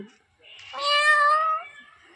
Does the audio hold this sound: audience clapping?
no